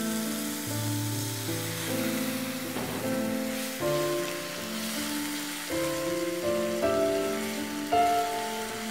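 Water is poured into a pan of methi chicken curry with fenugreek and spices, giving a steady hissing sizzle throughout under sustained background music.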